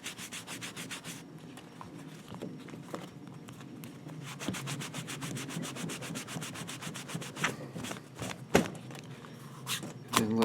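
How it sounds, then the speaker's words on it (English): Rubbing alcohol wiped over a bicycle inner tube around its cuts during a flat-tire repair, steady close rubbing and scratching strokes in a quick repeated rhythm. "I'll take some rubbing alcohol and clean up the area"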